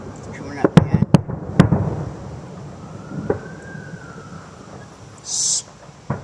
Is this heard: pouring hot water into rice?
no